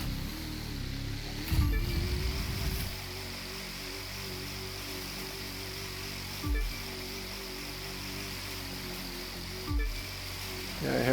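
A jet sprint boat races across choppy waves in The Crew 2, a steady engine drone with water wash running throughout and a few low thumping slaps as the hull hits the swells.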